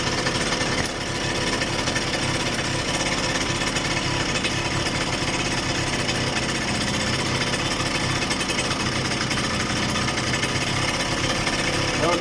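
A 1979 Suzuki JR50 minibike's small engine runs at a steady, loud, buzzing idle that stays constant for the whole stretch, with a brief dip near the start.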